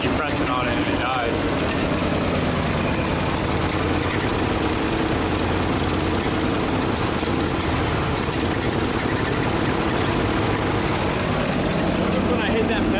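Old Ford F-600 dump truck engine running rough with heavy knocking and vibration, loud and close throughout, with people talking over the continuous clatter.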